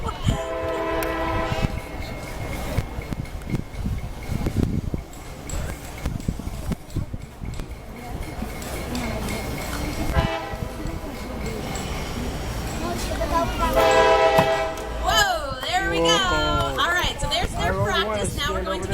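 A passing train rumbles steadily while its horn blares in a few long blasts, loud and nearby, with voices talking underneath at a county fair axe-throwing competition.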